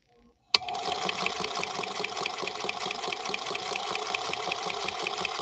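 A Featherweight sewing machine stitches vinyl paper with 50 weight cotton thread, starting with a sharp click and then running in a steady, fast, even whir for several seconds.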